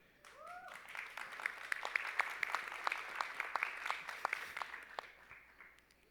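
An audience at a music industry and government policy conference in Jamaica claps steadily for several seconds, a dense patter of many hands heard at moderate distance with no talking over it.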